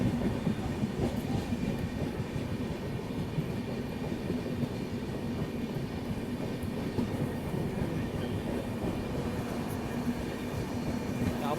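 Steady rumbling run of the 12274 New Delhi–Howrah Duronto Express heard from inside a 3AC coach, a continuous close rolling roar with faint wheel clatter and no speech throughout.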